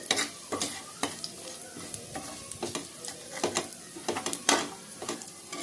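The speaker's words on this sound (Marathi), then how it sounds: "सो आता मी हे तमालपत्री आणि एक वेलची ऍड करते।" Bay leaf and a cardamom pod frying in hot oil in a home kitchen, giving a faint sizzle broken by repeated scraping stirs and clatter at an irregular rhythm, with no talking.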